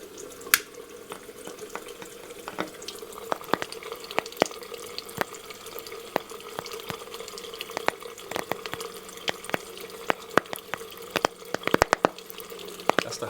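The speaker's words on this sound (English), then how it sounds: "That's the hydrogen bubbles exploding in the water." Kangen water fizzes with hydrogen bubbles, a close, steady run of tiny popping crackles and droplet-like ticks scattered over a soft liquid wash.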